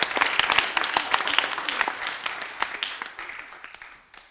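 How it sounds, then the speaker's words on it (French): Studio audience at a Burkinabè television variety show clapping loudly and continuously, dense applause that gradually thins and fades toward the end. "Je vais vous demander de faire beaucoup d'applaudissements."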